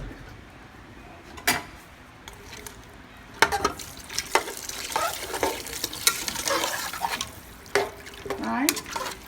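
A pot of chicken noodle soup being stirred, with intermittent scraping and clinking of a utensil against the pot over a steady bubbling background, moderately close.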